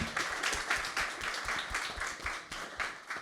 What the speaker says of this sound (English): Big round of applause for Amelia as well.